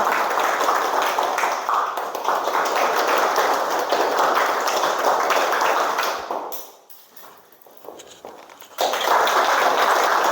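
A classroom of pupils claps steadily in a focus game, a dense continuous patter that stops abruptly, falls to quiet for about two seconds, then resumes at full strength.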